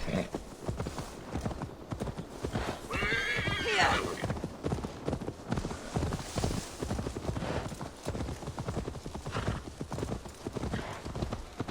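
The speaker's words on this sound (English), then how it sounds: "Right, let's take the horse back." A horse in the video game Assassin's Creed Valhalla trots with steady clip-clopping hooves and gives a whinny near the start, with game voices and background sound mixed in.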